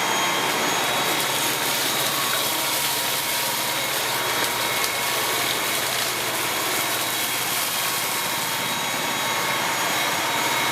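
Dyson V8 Total Clean cordless vacuum running on standard suction over a hard floor, a loud, steady high-pitched whine and airflow roar that holds without a break and has no talk over it.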